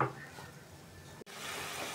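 Mustard paste frying in a pan for a pomfret fish curry takes a splash of water, and a soft stirring sizzle swells into a sharper, louder hiss once the water hits the hot pan.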